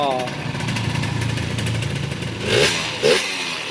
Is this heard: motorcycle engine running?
yes